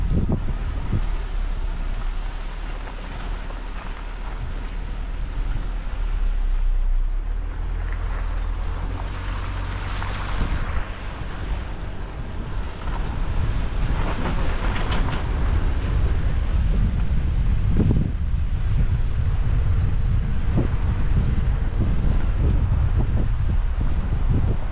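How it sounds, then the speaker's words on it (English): Strong wind roars and buffets the microphone continuously on a shoreline road, with rumbling gusts and rough rushing water underneath, no voices. "Really windy too."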